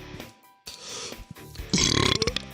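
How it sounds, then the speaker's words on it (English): A loud, drawn-out burp rumbles into a phone, with a second, rougher belch bursting out near the end after a short pause. "I shouldn't burp like that into the phone"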